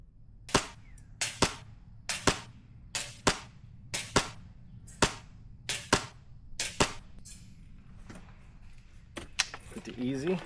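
An MTW 308 airsoft rifle fires 0.4 g BBs outdoors in a run of about a dozen sharp, evenly spaced shots, loud and close, with a few softer pops and a voice near the end.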